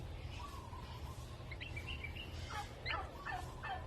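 Newly hatched turkey poults give soft high chirps and peeping whistles, a few brief rising calls clustered near the end over a low steady background hum, faint and close.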